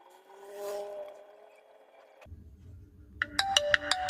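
Ringtone from a Jio F220B feature phone playing through its repaired loudspeaker, a loud chiming melody of bright repeated beeps starting partway through after a quieter hum and low rumble.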